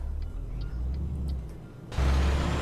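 A truck engine idles in Euro Truck Simulator with a low, quiet rumble and faint ticking. It swells into a louder, broader hum for the final half second.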